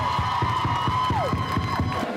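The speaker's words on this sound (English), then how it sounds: "let's give everybody a big round of applause right now" A crowd at a St. John's University Queens campus ministry gathering claps in a steady rhythmic beat while cheering, and a long sustained whoop or whistle rises over the clapping and then drops away.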